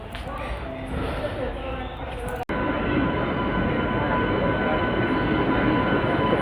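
The Arunachal AC Superfast Express is pulling into platform 4 at an Indian railway station, with a continuous heavy rumble of rolling wagons and a brief sharp break partway through.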